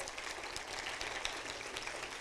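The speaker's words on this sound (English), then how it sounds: "Give them a round of applause, please." A steady wash of crowd applause at a city council meeting, many hands clapping densely and evenly throughout, heard from within a large room.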